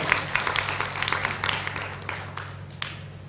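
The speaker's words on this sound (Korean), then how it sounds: "우리 박수 한번 하세요" Congregation clapping during a Korean church afternoon worship service, with a spread of individual claps and bursts over a low hum that thin out into scattered hand claps near the end.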